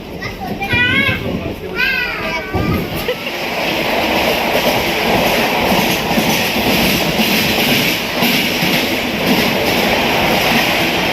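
A passenger train rolls along its rails with a steady rumbling, rhythmic clatter heard from inside the carriage, loud and continuous, while children's voices chatter and shout over the opening seconds.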